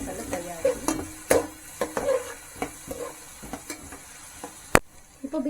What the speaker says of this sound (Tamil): பீன்ஸ் ஆட் பண்ணி நல்லா அதுவும் ஆயிலே ஃப்ரை ஆகிடும்